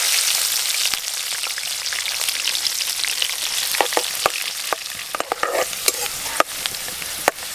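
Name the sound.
onions and green chillies frying in hot oil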